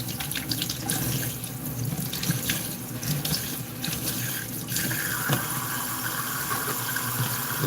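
Green onions being washed under a running kitchen tap: a steady, loud rush of water splashing into a sink for several seconds, with slight shifts as the onions move in the stream and no speech.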